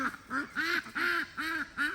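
Rescued ducks at a mountain farm animal sanctuary quacking beside a big open pond, a steady run of five or six loud, close quacks in an even rhythm.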